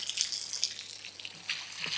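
Water runs steadily from a tap while being filled for watering plants, a soft hissing flow with light splashy drips, fairly faint and without voices.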